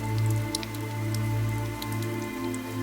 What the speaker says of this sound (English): A light rain had started to fall.